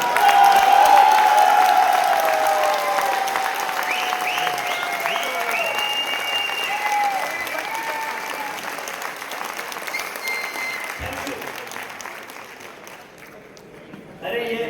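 Applause from a large audience in a hall of about a thousand people, a steady dense clatter of clapping with whistling tones over it, fading slightly toward the end.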